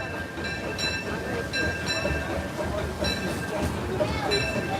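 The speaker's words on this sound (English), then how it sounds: "Hear the train behind me?" A Disneyland train rolls past nearby with a steady, loud rumble, clanking wheels and a recurring bell-like ringing tone, while a voice murmurs in the background.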